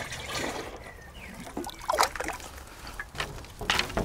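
Water trickles and splashes while a garden is watered, with irregular bursts of pouring and dribbling that rise and fall close by, with no talking.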